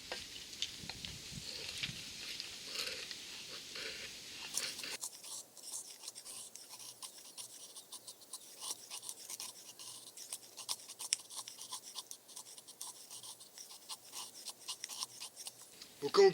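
Knife shaving thin curls from a wood stick to make a feather stick for fire starting, heard as dense, rapid scraping and rasping strokes, close and continuous, with louder handling noise in the first few seconds.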